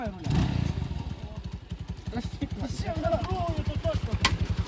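A Chinese motorcycle engine chugs in a steady rapid rhythm, close by, with splashing and clatter mixed in as it drives through water; a voice talks briefly.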